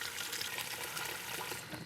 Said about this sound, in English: begin cooking the stock with cold water